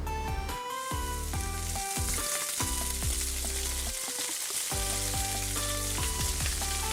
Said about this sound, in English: Now we fry the paste.